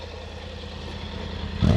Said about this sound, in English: I love that T-plane crank engine though.